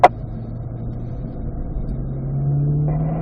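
Corvette engine accelerating on a race track, a sharp click at the start followed by a low, steady engine drone that rises in pitch and grows louder toward the end as the car speeds up.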